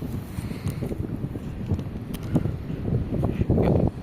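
Gusty seaside wind in Sinop, Turkey, buffets the microphone in low rumbling pulses, rising stronger toward the end.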